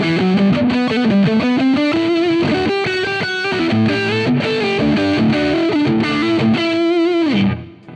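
A 2023 Music Man Cutlass HT electric guitar with distortion plays chords and riffs, loud and gritty, for several seconds before the final note fades out.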